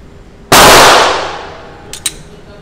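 A single sharp Glock 19 pistol shot, loud and close, with a short decaying tail and a couple of faint metallic clicks afterward.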